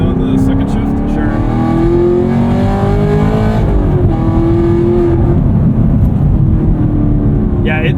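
A modified 2022 Chevrolet Camaro SS 1LE with a V8 accelerates hard from inside the cabin, its loud engine note climbing steadily, dipping at a shift, then rising again under a persistent deep roar.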